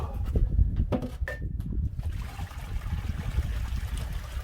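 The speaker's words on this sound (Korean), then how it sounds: "초벌한 물은 버렸고요" Water poured out of a pot used to parboil a beef head, a trickling, splashing stream with a few clanks of metal at the start, then a steady rushing flow, fairly close.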